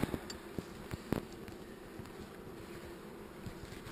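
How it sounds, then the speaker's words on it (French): Honeybees buzz in a soft, steady drone during a transfer from one hive to another, with occasional faint taps and knocks, fairly quiet and with no one talking. "on va juste finaliser le transfert des abeilles d'une ruche à l'autre"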